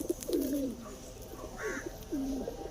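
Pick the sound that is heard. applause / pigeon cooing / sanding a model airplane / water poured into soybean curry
pigeon cooing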